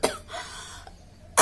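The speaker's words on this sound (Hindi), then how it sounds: "ये खांसी जाती ही नहीं है, जाती नहीं।" A woman with a lingering cough gives a sharp cough at the start and another a little over a second later, close and fairly loud, with quiet breathing between.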